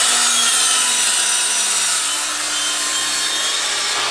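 A saw cuts a back bevel into wood trim during a fireplace renovation, giving a steady, loud rasping drone that carries on without a break from start to finish, close by and with no voices.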